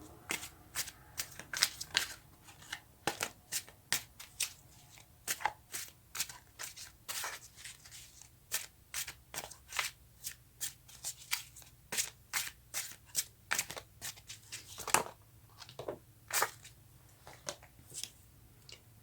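Tarot cards being shuffled close up, a long run of quick crisp riffling bursts and taps in an uneven rhythm, fairly quiet and without talk.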